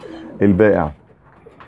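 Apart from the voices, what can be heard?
pigeons cooing in an isolation cage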